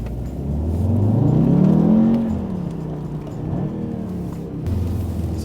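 A third-generation Audi TTS in sport mode revs up close by. The engine climbs to a loud, throaty peak over about two seconds, then drops back to a steady, rumbling idle, with no talking.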